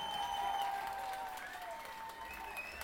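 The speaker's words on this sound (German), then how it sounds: "Ein großartiger Applaus für die Nutte der Nation." A concert crowd at Zeche Carl in Essen applauds the band's drummer with distant, fairly faint clapping. Thin whistles and cheers rise over it in a short, even burst.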